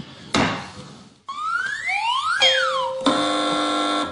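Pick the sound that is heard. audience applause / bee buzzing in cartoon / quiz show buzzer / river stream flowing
quiz show buzzer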